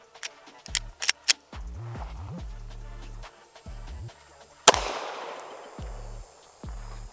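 A Glock pistol fires at a shooting range: a quick burst of three sharp cracks, a pause, then one louder report with a ringing decay, set against quieter intermittent sounds.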